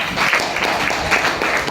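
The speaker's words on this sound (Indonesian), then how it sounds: "Tepuk tangan dulu dong buat mereka." Classroom applause for a group of students, a dense patter of many hands clapping steadily through the whole short moment, fairly close and even in loudness.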